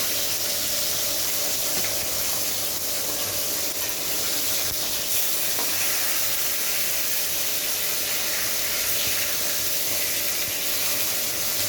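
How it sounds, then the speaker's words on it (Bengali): Pieces of rohu fish fry in hot oil in a kitchen pan, giving a continuous, even sizzle and hiss that stays loud and steady without pause. "মাছগুলো ভাজা হয়ে গেছে,"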